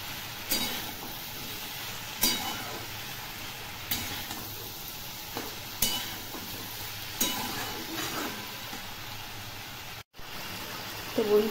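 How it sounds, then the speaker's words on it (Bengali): Malabar spinach being stirred as it fries in a pan for a fish-head curry, with a steady sizzle and periodic louder scrapes and stirs at intervals, close and alone. "এখন নেড়ে নিচ্ছি ভালো করে"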